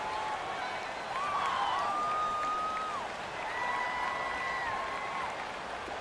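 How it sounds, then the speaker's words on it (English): Stadium crowd roar in Madden NFL 19 with home fans drowning out an offensive line, a steady broad wash of cheering under rising and falling whistle-like tones, kept at a moderate level throughout. "The crowd's not doing that O-line any favors."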